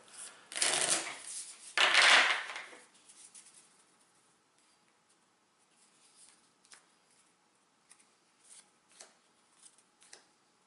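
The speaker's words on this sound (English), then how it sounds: "you're going to shuffle the bystanders deck and draw the top 2 face down, stick them in here, and shuffle" A deck of cards for the Legendary Buffy the Vampire Slayer board game is riffled twice in quick, loud bursts, followed by softer scattered handling and tapping of cards.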